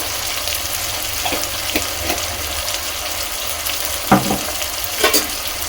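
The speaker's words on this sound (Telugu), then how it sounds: "ఇప్పుడు ఇవన్నీ మిక్స్ చేసుకోవాలి." Food being mixed with salt and chili powder over a steady, close hiss of frying, with scattered scrapes and a couple of louder knocks from the spoon near the end.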